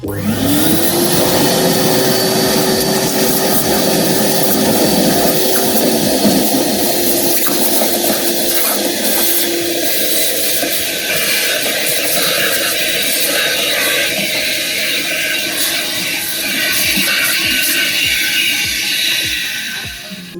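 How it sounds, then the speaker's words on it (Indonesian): A Karcher Puzzi carpet and upholstery cleaner runs with its vacuum on and the suction hose drawing from a clean-water container, giving a loud, steady motor whine with a gurgling water rush that holds throughout. "suction hose dimasukkan ke dalam kontainer air bersih, dan kita nyalakan mesin tombol vakum"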